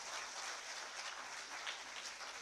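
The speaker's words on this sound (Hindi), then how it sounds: "जोरदार तालियां।" Applause from the audience at a government appointment-letter distribution ceremony with the Chief Minister, a steady dense wash of many hands clapping, fairly faint and continuous throughout with no talk over it.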